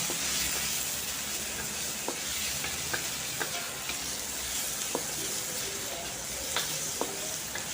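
Capsicum and tomato sizzle in a pan with a steady frying hiss, punctuated by light scraping clicks as the pieces are stirred.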